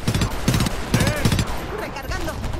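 Gunfire in the video game Homefront, loud bursts of rapid automatic shots in several quick volleys, followed by whooshing and fading effects, with a voice briefly heard alongside.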